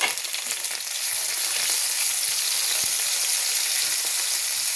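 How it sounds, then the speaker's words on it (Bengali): Browned onion and half a tomato fry in a pan with a steady, hissing sizzle that runs evenly throughout, with no voices. "পেঁয়াজটা ভাজা ভাজা হয়ে গেছে, আমি একটা হাফ টমেটো দিয়ে দেবো"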